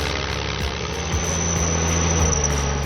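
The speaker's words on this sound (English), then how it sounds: "Even with its 6-cylinder turbocharged PowerTech diesel engine producing 140 horsepower" A logging tractor with a 140-horsepower 6-cylinder turbocharged PowerTech diesel engine, stuck in mud with a log-laden trailer, runs with a steady, dense drone, faint shifts in pitch and a constant vibrating hum, heard close with no voices.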